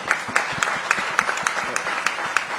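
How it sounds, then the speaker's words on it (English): Audience applause at a business summit, a steady patter of many hands clapping with some sharper individual claps standing out. "I think that calls for a round of applause."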